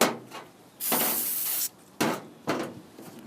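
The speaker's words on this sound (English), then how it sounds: "I'm just going to use some brake cleaner, just spray them down." Hissing brake cleaner aerosol spraying rear brake pads of a 2002 Honda CR-V in a long burst followed by two shorter sprays, close and fairly quiet, with brief pauses between.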